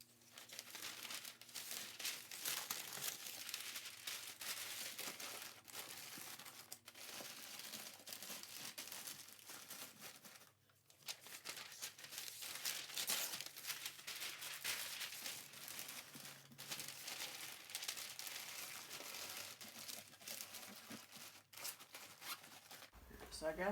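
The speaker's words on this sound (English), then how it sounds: "I'm gonna get some filler paper and put it around the edges of it." Filler packing paper being crumpled and stuffed around the edges of a DVD-VCR combo player inside a shipping box, a long run of close, crisp crinkling and rustling with brief pauses.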